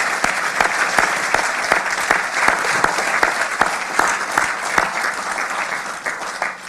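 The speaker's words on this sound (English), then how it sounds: "So huge round of applause for the team." Audience at a space panel event on Australia's lunar rover mission applauds the team, a steady dense wash of clapping that holds loud and continuous throughout, with no voices over it.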